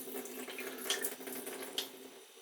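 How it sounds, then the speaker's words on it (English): Starchy liquid from grated potatoes for potato pancakes being poured off, a steady close splashing trickle like running water into a sink, with a couple of brief sharper splashes. "just pouring off the liquid, so you end up with just that starchy residue"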